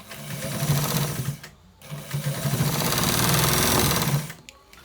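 Sewing machine stitching a white trouser, loud and close, running in two long bursts of rapid needle chatter separated by a brief stop, with a short pause at the end.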